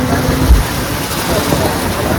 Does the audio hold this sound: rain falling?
yes